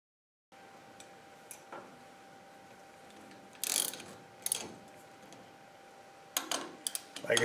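A ratchet runs bolts into an engine cylinder with close, clicking pawl bursts that come in several short spurts separated by pauses, over a quiet background.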